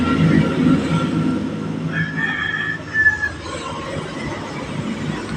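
A sewing machine stitches kattori blouse front pieces together with a continuous mechanical whirr, moderately loud and close, with a few brief higher-pitched whines over the steady running.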